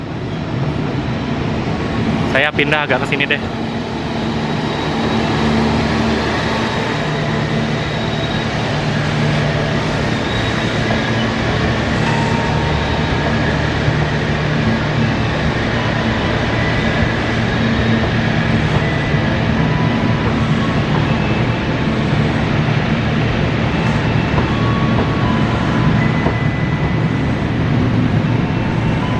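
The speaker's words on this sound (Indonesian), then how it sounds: "papasan sama KRL JR 205-7775 tujuan Bandan lewat Senen" A long KRL JR 205 electric commuter train rolls through Jatinegara station in Jakarta with a loud, continuous rumble and hum of wheels on rail, a brief horn-like tone early on, and a short spoken remark near the start.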